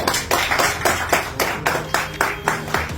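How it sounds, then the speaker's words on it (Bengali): A small crowd at a mobile shop prize handover claps in a steady, even rhythm, close and loud, as a bicycle key is presented; about a dozen distinct beats, no talk. "হাততালি সবাই।"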